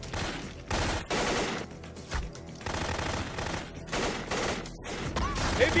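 Sustained gunfire from a shootout in a Thai action movie, with bursts of automatic fire and sharp repeated shots rattling loudly through the whole stretch, no talk over it.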